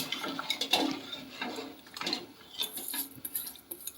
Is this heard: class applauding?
no